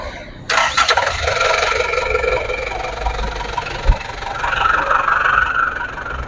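A car's engine cranks and catches with a sharp start, then settles into a steady, moderately loud idle close by, with a brief knock partway through.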